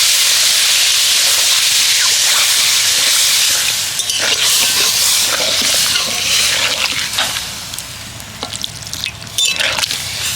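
Water poured into a pan of fried potatoes with kasuri methi bursts into a loud, sustained hiss and sizzle. The sizzle then settles into uneven bubbling and crackling with stirring, and no one speaks.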